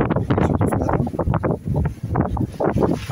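Strong following wind of about 15 knots buffets the microphone aboard a sailboat on a solo passage from the Marquesas to the Tuamotus, gusting in loud, uneven rumbling bursts throughout.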